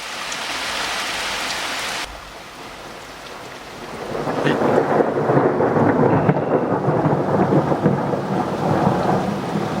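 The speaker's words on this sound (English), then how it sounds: "it's chucking just about everything at us at the moment. Thundering, lightning, absolutely everything." Heavy rain pours down during a thunderstorm, a dense steady hiss that thickens after a brief lull, with a low rumble of thunder rolling underneath and no voices.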